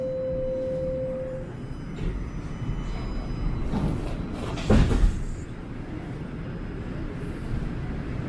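Subway train doors at St. Clair Station in Toronto slide shut with a brief rushing thud midway, set against a low, steady hum of the train interior and faint background murmur.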